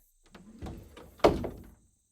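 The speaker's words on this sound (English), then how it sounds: "Every evening, Emily would retreat to her room, shutting the door softly." A bedroom door is eased closed as a sound effect, with soft handling bumps followed by a gentle latch thump and a brief fading tail in quiet surroundings.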